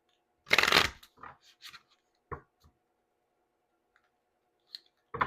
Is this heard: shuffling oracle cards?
yes